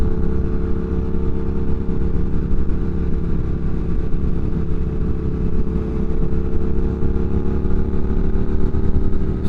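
A 2022 Triumph Speed Twin motorcycle with a rebuilt engine runs steadily close by, a loud, even, deep throb that holds without a break.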